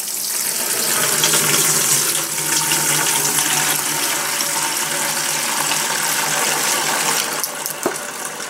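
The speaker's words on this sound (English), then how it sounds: "Might as well pour off the dirty water." Dirty water pours off from a wet tumbler cleaning black brass cases with steel pins, a loud continuous gushing splash that tapers slightly near the end.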